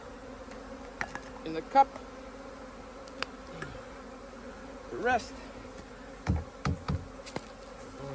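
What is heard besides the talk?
honey bees buzzing during varroa mite treatment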